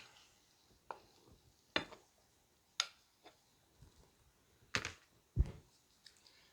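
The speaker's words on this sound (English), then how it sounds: "we're going to use our pastry cutter and get that mixed in real good" A pastry cutter works shortening into dry ingredients for a 1970s-style pie crust, giving scattered quiet clicks and scrapes at an irregular pace, close by and faint, with no talking.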